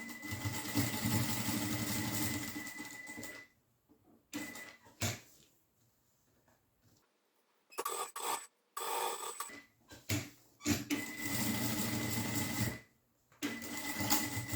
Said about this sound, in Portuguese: Vou alinhar aqui e vou fazer uma costura em toda a volta.